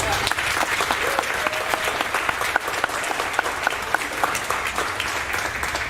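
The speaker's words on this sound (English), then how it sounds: "another nice round of applause" A round of applause for honor roll students at a middle school award ceremony, many hands clapping steadily and evenly, with a few faint voices beneath.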